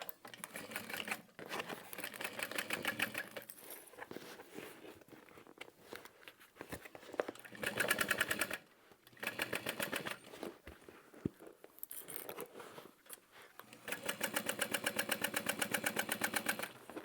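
A sewing machine runs in several bursts while stitching a seam line on a handbag, whirring rhythmically with brief pauses between runs and no talking.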